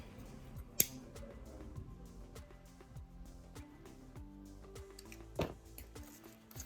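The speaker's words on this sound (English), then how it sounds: "cut that round to an angle" Scissors snipping through ribbon loops while a hair bow is shaped, a few crisp close cuts, with one sharp snip early and another later, amid quiet handling rustle and no talking.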